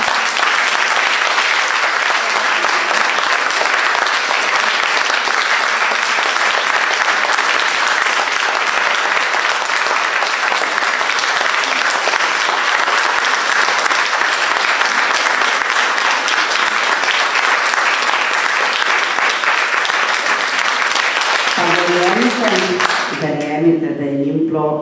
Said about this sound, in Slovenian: lepo vas prosim še en aplavz za ekipo